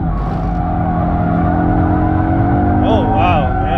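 A 2022 Audi RS3 with 400 hp and all-wheel drive holds a steady, loud engine drone while drifting through a corner, rising into a brief wavering rev near the end, with a voice talking over it.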